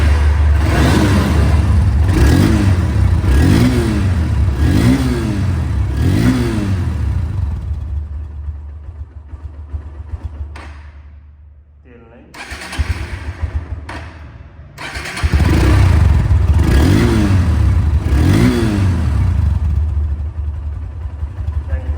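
A Honda CB Hornet motorcycle engine runs loudly close by and revs in several rising bursts. It drops away briefly, then roars back and keeps running.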